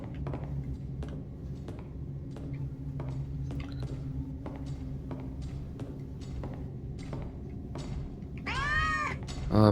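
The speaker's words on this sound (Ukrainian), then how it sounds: "ще кіт тут, а?" Repeated cat meows from the game Case: Animatronics 2 over a busy game soundscape with rapid clicks and thuds, ending in a loud, drawn-out meow near the close.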